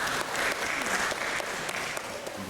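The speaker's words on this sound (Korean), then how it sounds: "우리 격려의 박수 한번 하겠습니다" A church congregation gives a short round of encouraging applause, many hands clapping together in a steady, moderately loud burst lasting a couple of seconds.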